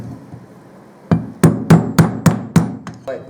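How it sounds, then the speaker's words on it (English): A hammer drives a screwdriver used as a wedge to knock a motorcycle head stock bearing free, landing six sharp metallic blows in a steady rhythm, close and loud, after a quieter lead-in. "You're just driving the screwdriver in as a wedge and driving that bearing off."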